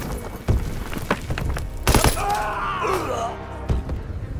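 Grenade explosion in the Call of Duty WW2 campaign mission on the Rhine, a sharp booming blast with shattering debris amid scattered gunfire thumps, close and loud, with shouted voices around it.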